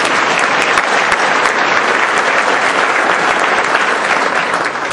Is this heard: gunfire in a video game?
no